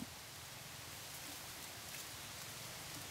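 Rain pours down in a forest during the June rainy season, a dense, even hiss of drops on foliage that stays steady and soft throughout with no voices.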